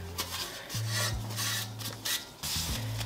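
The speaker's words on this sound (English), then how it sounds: "You're just kneading it together. Get all that tatty off the sides." Potato scone dough is worked by hand on a kitchen counter, with soft rubbing and scraping strokes and a few light knocks of utensils against a bowl, close and fairly quiet.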